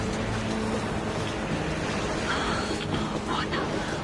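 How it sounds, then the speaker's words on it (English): Howling blizzard wind in the video game Metro, a dense steady roar of gusts that fills the whole stretch, loud and constant with faint higher whistles toward the end. "Now that's what I call a blizzard!"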